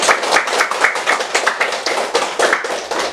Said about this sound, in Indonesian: Nah, tepuk tangan semua dulu.